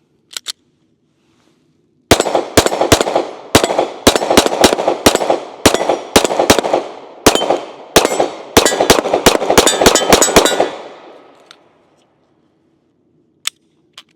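Pistol fitted with an OSight red-dot optic fires around fifteen loud, sharp cracks in a quick, slightly irregular string, each with a short ringing decay, followed by a couple of faint clicks.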